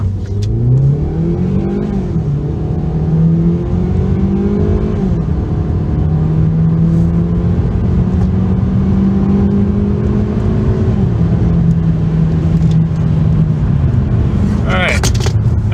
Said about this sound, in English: I'm going to just floor it until I shift through all the gears